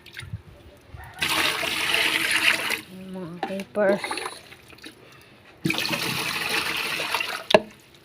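Water pours and splashes into an aquarium being refilled after cleaning, in two long gushing bursts with a pause between, while someone talks in between.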